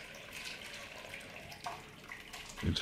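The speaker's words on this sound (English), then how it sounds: "I get closer so it splashes all over the place." Bone broth splashes and pours steadily into a container as it is strained, with a louder splash near the end.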